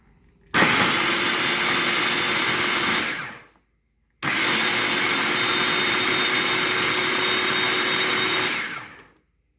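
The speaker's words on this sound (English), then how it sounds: "we're going to blend this up" A blender whirs loudly while mixing a balsamic rosemary marinade, running in two steady bursts of about three and four seconds separated by a brief silence, with no talking over it.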